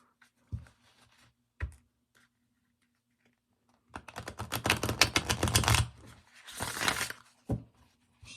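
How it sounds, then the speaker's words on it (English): A few sharp taps, then a quick fluttering riffle of a Crowley tarot deck being shuffled, followed by another burst of riffling and a final tap. "It shuffles real good. I'll show you how it shuffles."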